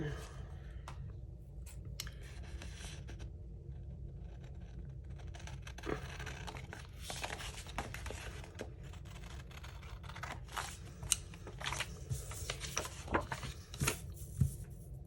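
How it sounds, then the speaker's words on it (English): Scissors cutting paper for a planner, a series of close crisp snips and rustles that grow busier toward the end, with a voice talking quietly under parts of it. "Let's cut it and see how it looks when we cut it."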